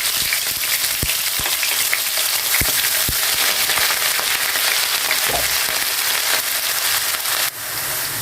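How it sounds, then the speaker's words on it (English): Chopped onion fries in a hot pan for a yam sauce, giving a dense, continuous loud sizzle with scattered pops and crackles and occasional clicks, close up with no talking. "Fry the onion for about 2 minutes."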